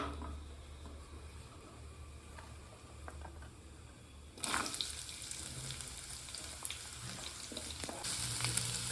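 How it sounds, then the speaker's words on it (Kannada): Onions frying in oil with pepper, cinnamon and cloves for a village-style country chicken curry, a steady close sizzle that grows louder midway as they are stirred, with soft scraping underneath. "ಚೆನ್ನಾಗಿ ಫ್ರೈ ಆಗಬೇಕು, ಅಲ್ಲಿವರೆಗೂ ಹುರ್ಕೊಳ್ಳೋಣ."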